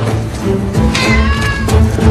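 A cat meows loudly and close, a drawn-out mewing cry over a noisy background with music-like hum, without speech.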